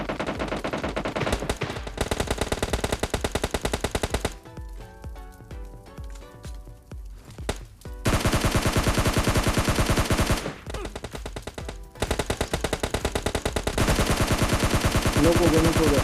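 Loud, rapid automatic gunfire in the PUBG Lite battle-royale game, bursts of dense shots separated by brief pauses with quieter firing in between, continuous over the whole stretch.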